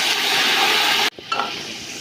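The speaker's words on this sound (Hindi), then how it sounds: "अब गोश्त डाल रही हूँ।" Chicken meat goes into a hot pot for pulao, and a loud, broad sizzling hiss fills the first second before cutting off abruptly into quieter crackling and stirring.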